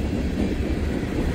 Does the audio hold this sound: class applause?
no